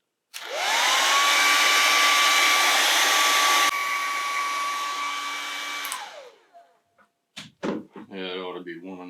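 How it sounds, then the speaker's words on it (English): Hair dryer heating the sticker on an Xbox One controller, a loud steady whir close up that runs about six seconds and then winds down, followed by a few knocks and a voice. "I'm going to go ahead and turn this thing on. And just heat the sticker up pretty much."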